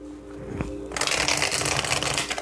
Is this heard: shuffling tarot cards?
yes